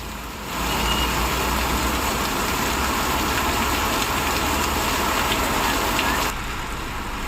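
Heavy rain pours down in Delhi's New Friends Colony, a dense steady hiss amid waterlogged, traffic-jammed streets, with a faint engine hum beneath.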